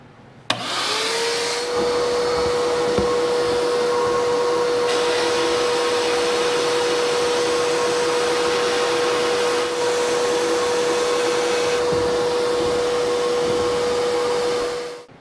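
A steady, loud vacuum motor on a sandblast cabinet drones continuously with a constant whine, starting abruptly and running without pause.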